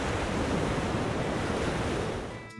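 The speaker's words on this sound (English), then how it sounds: "we woke up to the sound of the waves crashing and the birds singing" Ocean waves break on the beach at a Bali seaside resort, a loud, steady, close wash of surf that eases off near the end.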